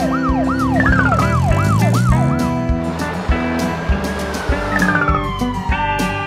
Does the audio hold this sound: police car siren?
yes